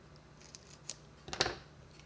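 Scissors trimming dimensional paper for a papercraft tractor seat: a few faint snips early on, then one louder crisp cut near the end, close and with no talking.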